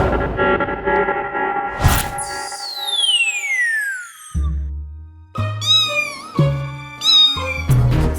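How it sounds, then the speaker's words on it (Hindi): A cartoon-style cat meows several times in a comedic scene, with a whooshing sweep before the calls and a run of short, bright, wavering meows at the end. "बिल्ली देख के चूहा चौंका"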